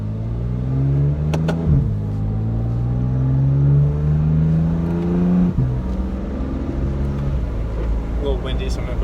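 A BMW M3 with a Stage 2 Bootmod3 tune, downpipes and stock muffler, in sport mode, revs up in steady rising pulls, with the engine note dropping sharply at each manual gearshift. The engine drones loud and close inside the cabin throughout.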